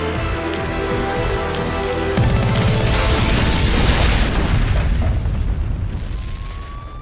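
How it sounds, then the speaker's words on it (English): A big roaring cartoon explosion swells into a long rumbling blast with crackling debris, then slowly fades, ending with a rising whistle-like tone. "We came when we saw the explosion."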